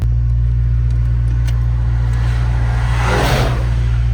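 A 650 HP Mercedes-AMG GT63 S accelerates hard from a launch on a city street, a loud, deep engine rumble heard from inside the car that swells toward the end, no talk.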